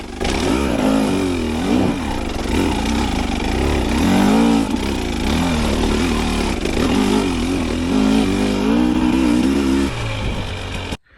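A motorcycle engine with throttle-body injection revs up and down in uneven surges, loud and close, then cuts off abruptly near the end.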